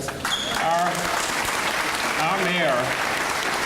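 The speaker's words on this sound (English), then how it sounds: "Can we give her a round of applause?" An audience at a middle school ribbon cutting in Goodlettsville bursts into steady, loud applause that fills the whole moment, with a voice briefly audible over the clapping.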